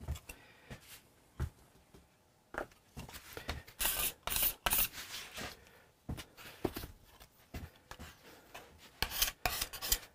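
A hand scraper strips old finish from the body of a Hofner Galaxie guitar in short, uneven rasping strokes, some quiet and some sharper, with brief pauses between bursts.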